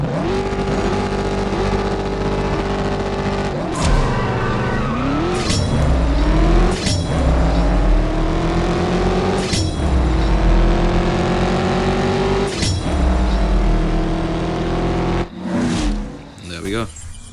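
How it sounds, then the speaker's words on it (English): A Dodge Challenger Hellcat races in the CSR Racing 2 video game. The loud engine climbs through repeated revs, dropping back at several quick gear shifts and ending in a final burst of acceleration. "Yeah, it's a very low, grumbly sounding car."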